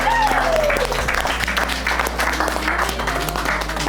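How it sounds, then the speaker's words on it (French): Loud, sustained applause from guests at an engagement ceremony, continuous clapping over a steady low hum with some crowd noise mixed in. "Ok, mais on applaudit."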